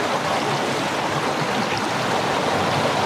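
Water from a river beside a riverside Isaan restaurant in Chiang Mai, Thailand, rushes in a steady, even broadband flow, continuous and fairly close, with no voices.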